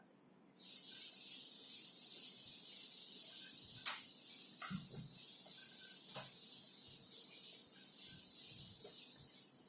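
An eraser rubs writing off a classroom board in a continuous, hissy scrubbing that runs almost nonstop for several seconds, with faint knocks and taps mixed in and no talking.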